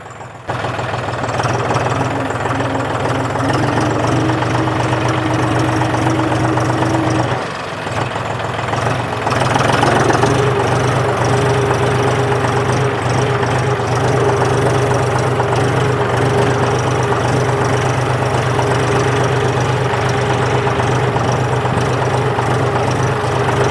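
A John Deere 5045 D tractor engine, a 2025 model, runs steadily at idle with a continuous low rumble and knocking tone, close and loud, with a brief dip partway through before resuming.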